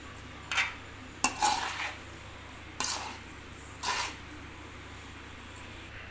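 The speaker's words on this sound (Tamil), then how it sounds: "இப்போது தக்காளி சாப்பாடு கிளறியாச்சு" A spoon stirs tomato rice in a pot. Four or five distinct metallic scrapes and clinks come a second or so apart, fairly close, over a low steady background hum.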